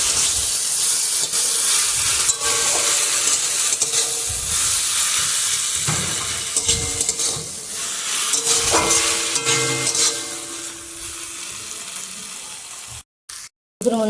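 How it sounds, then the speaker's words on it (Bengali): Okra frying with turmeric in a pan hisses steadily while a spatula stirs and scrapes through it, giving a continuous close sizzle with intermittent scraping knocks over many seconds. "হলুদ ভালো করে নাড়াচাড়া করবো।"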